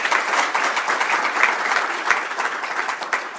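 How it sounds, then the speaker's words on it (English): A conference audience at a US-India relations opening session gives a hearty round of applause. The dense, sustained clapping holds strongly throughout and tapers slightly at the end. "I think a big round of applause is due to Rekha for all her hard work."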